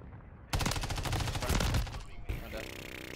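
Rapid automatic gunfire from Call of Duty MW3 ranked play rattles in a dense burst lasting over a second, followed by game effects and background noise.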